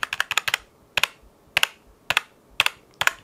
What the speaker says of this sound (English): I'm typing away on my mechanical keyboard